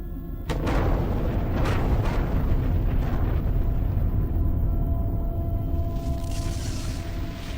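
Atomic bomb explosion in the video game Technobabylon: a sudden loud blast that swells into a sustained, heavy rumbling roar lasting several seconds, with no talk over it.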